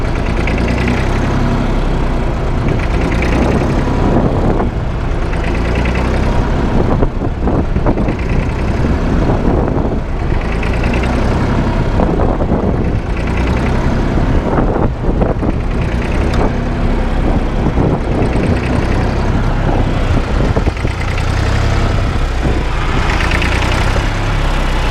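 A farm tractor's diesel engine runs steadily while reversing to hitch a harrow, a loud, close, continuous rumble with a rhythmic knocking pulse throughout.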